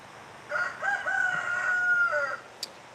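A rooster crows loudly and close by in one long drawn-out call, with a brief sharp cluck just after it ends.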